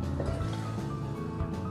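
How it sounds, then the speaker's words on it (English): Preheat water is poured out of a Kalita pour-over brewer, a soft continuous splashing and dribbling heard close up and fairly quiet. "Then I'll dump that water."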